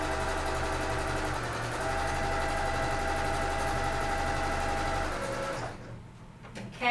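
A sewing machine runs a steady, fast stitch along the edge of quilt batting on a jelly roll fabric coffee cozy, humming continuously up close for about five seconds before stopping, followed by faint handling noise.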